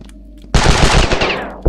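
In the shooter game Ravenfield, an enemy opens up with a loud, close burst of rapid automatic gunfire that starts suddenly after a short quiet moment and rattles on for about a second before trailing off.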